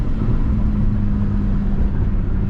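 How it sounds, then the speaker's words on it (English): 1991 Honda Civic engine in second gear, a steady loud low rumble from inside the cabin as it accelerates and then eases off, with no talk. "Second gear, accelerate, and deaccelerate."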